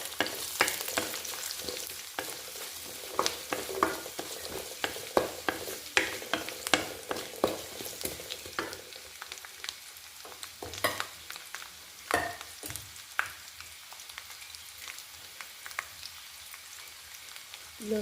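Chopped ingredients frying in oil for Kerala-style beef pickle, with a steady sizzle broken by repeated scraping stirs of a spoon against the pan, close and moderately quiet, with no one talking.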